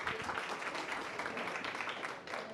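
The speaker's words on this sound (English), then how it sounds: "Round of applause." Audience applause at a COP29 food systems session, a soft, distant wash of many hands clapping steadily for a couple of seconds without speech.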